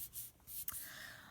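An adhesive tape runner drawn along card stock while crafting, making soft, brief scratchy rubbing strokes, close and quiet, with a small click near the middle.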